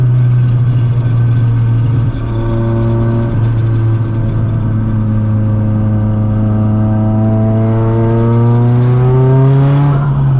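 A 410 hp modified Nissan Silvia S15 Spec R's deep, loud exhaust droning steadily at a low rumble, then its pitch climbing as the engine revs up near the end.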